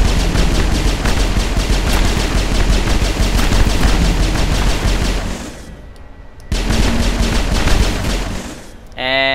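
Rapid pistol gunfire from the Mass Effect video game crackles continuously and loudly, a dense stream of shots that briefly drops off before resuming, with game effects and voices mixed in.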